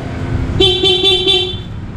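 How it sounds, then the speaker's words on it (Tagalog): Yamaha Sniper 155 motorcycle horn sounding in one steady blast lasting over a second, with slight pulsing, loud and close with no talk. "Busina."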